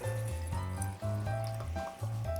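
Homemade keto lime cordial poured from a container into a bottle, a steady close gurgling stream of liquid with brief pauses between pours.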